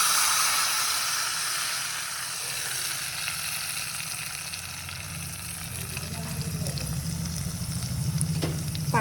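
Herbal leaf juice hits hot coconut oil in a pan, producing a broad steady sizzle and hiss that continues throughout, with soft stirring scrapes and a faint click near the end.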